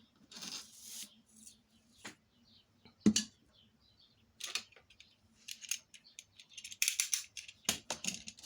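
Scissors cut through paper in a series of short, crisp snips and rustles, irregularly spaced and fairly quiet, with pauses of near silence between them.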